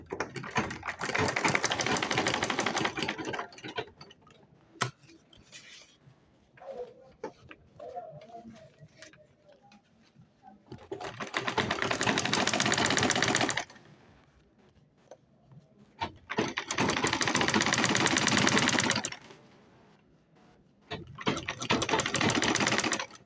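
Domestic sewing machine stitching handbag fabric in bursts of rapid, steady running, separated by quieter pauses with handling sounds; the bursts are loud and close, with no talk over them.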